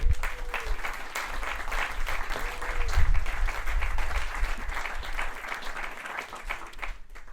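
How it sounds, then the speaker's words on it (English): A crowd at a tennis hall of fame awards ceremony applauds steadily, a dense wash of clapping that swells slightly midway and then tapers off, with faint voices underneath. "So I think they deserve a round of applause."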